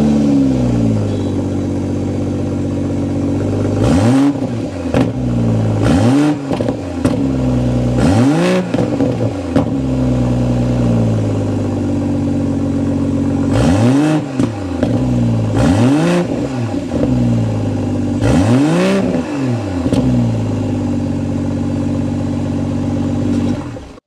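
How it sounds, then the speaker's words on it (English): A 2022 BMW M440i with an inline-six twin-turbo engine, its exhaust note filling the air through a series of sharp revs that rise and fall over a steady rumbling idle, loud and close, with no one talking. "Let's go inside, start it up so you can hear that exhaust note."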